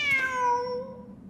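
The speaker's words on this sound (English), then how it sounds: "The cat!" A cat meows in the game Genshin Impact, one clear, drawn-out falling call that rings close and alone, then fades into quiet background ambience.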